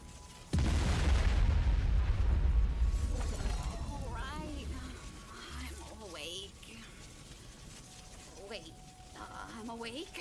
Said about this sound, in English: stupid cannons again!